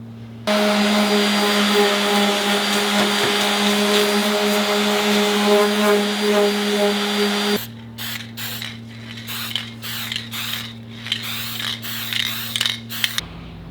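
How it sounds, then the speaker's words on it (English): A power sander works the factory paint off a Toyota 4Runner fender, giving a loud, steady whine for about seven seconds, then a run of shorter, choppy bursts as it is lifted and reapplied. No one talks. "So I am going to sand down the factory paint a little bit"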